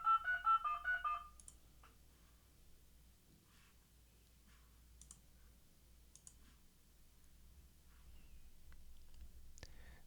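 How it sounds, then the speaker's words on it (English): A quick run of automatic telephone dialing tones beeps out several short pitched notes in rapid succession, followed by a long quiet stretch with faint scattered clicks. "I'm able to call a variety of phone numbers, and these things can be automatically dialed"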